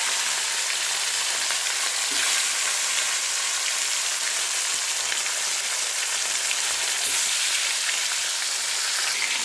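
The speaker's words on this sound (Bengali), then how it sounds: "ভালো করে তেল গরম করার পরে মাছটা ভাজবো" Bata fish frying in hot oil, a steady, close, dense sizzle and crackle that holds evenly for the whole stretch with no voices.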